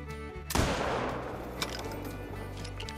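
A single loud crack from a Gandhare rifle, fired at a European bison in theHunter: Call of the Wild hunting game, followed by a long rolling echo that fades over steady ambient tones.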